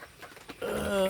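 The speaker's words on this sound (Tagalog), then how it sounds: "Mababa itong mga manok ko guys." Backyard chickens cluck in a short, close burst that swells and peaks near the end, preceded by a brief stretch of quieter scuffling.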